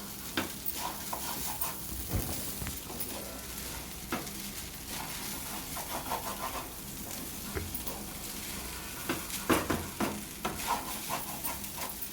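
Egg fried rice frying street-food style over a high flame, with a continuous loud sizzle broken by repeated scraping and clattering stirs, and no voices.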